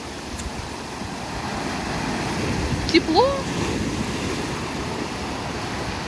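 Sea waves wash over feet in the shallows of a beach at Mahmutlar, Alanya, Turkey, a steady surf and wind rumble with a slight swell near the middle, while a voice speaks briefly.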